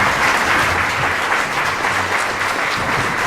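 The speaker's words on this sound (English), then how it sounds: "would you please stand so we can give you a round of applause?" Crowd applause at a 50th anniversary dinner for the Shelton Gaelettes: a thick, continuous burst of clapping, fairly loud and unbroken, briefly held for a few seconds.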